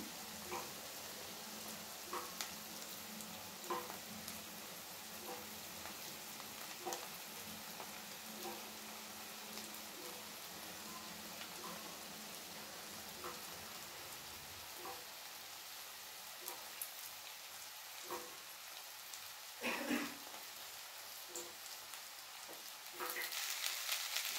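Drumstick leaves and toor dal fry in oil with a soft, steady sizzle, broken by occasional light stirring scrapes and clicks.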